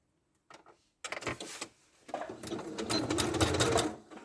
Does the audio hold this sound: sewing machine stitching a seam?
yes